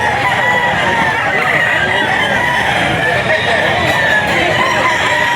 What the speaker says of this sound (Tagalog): Ayan yung manok niya mga idol.